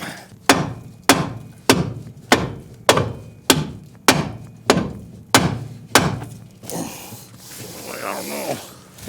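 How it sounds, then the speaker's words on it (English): A hammer taps repeatedly on an old car long stored in a barn, about ten sharp metallic knocks in steady rhythm, close and loud, followed by a few seconds of quieter handling noise. "Tap on it with the hammer,"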